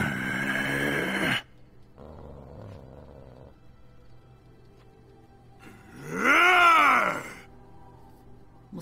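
A dog growls in Dragon Age: Origins, with a low, harmonic growl near the start and a louder, rising and falling snarl around the sixth second, separated by a quiet stretch of faint game ambience.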